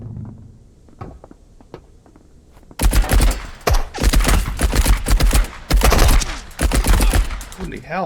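Rapid gunfire bursts from the extraction shooter game Marauders, dense, loud automatic fire with heavy punchy shots, following a quieter stretch with a few faint distant thumps.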